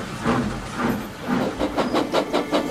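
A steam locomotive chuffs away in a run of rhythmic puffs that quicken as it pulls off, each burst carrying a hissy exhaust over a low rumbling drive, heard alone without voices.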